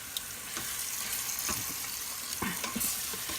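Pork pieces browning in an Instant Pot in a small RV kitchen, a steady close sizzle and fry with scattered soft stirring scrapes and clicks throughout.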